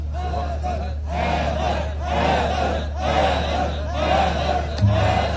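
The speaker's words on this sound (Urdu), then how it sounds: "یہ جب حیدر حیدر کے نعرے لگ رہے ہیں" A crowd at a religious celebration of Imam Ali's birth chants "Haidar, Haidar" in loud, rhythmic unison, the shouted slogans rising and falling in repeated bursts over a steady low hum.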